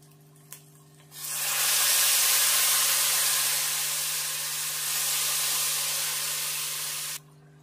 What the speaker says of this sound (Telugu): వేగినాక ఇప్పుడు చింతపండు సూపు పోసుకోవాలి.